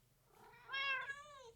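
A cat meows once in a game mansion, a single clear, drawn-out call with no talking over it.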